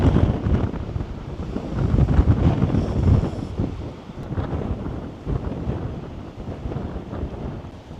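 Strong wind blows along the Welsh coast, roaring and buffeting the microphone in uneven gusts, with a faint wash like surf far off beneath it.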